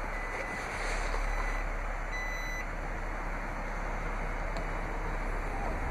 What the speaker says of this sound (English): To open the liftgate, just press the liftgate button twice on the key fob.